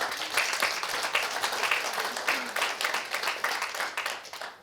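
Sustained applause from a seated audience at a 2024 product training event, dense steady clapping that fills the room for several seconds before easing off.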